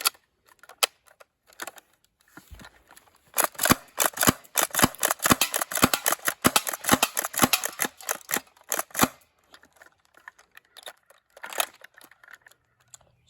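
A CYMA 3-shot airsoft shotgun slam-fires in a rapid, close string of sharp snapping cracks over several seconds, with a few scattered shots before and after the main burst.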